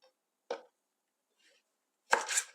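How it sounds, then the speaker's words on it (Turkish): A knife chops green village peppers into julienne strips on a board, giving two sharp isolated cuts with a faint tap between them, close and alone without talk. "Şimdi de yeşil biberlerimi aynı şekilde hemen jülyen doğruyorum."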